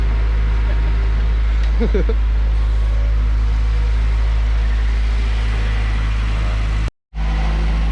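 A Honda Civic engine runs steadily during a sound check while the car is raised with its wheels off, a low idling hum under a brief voice, with a short drop near the end.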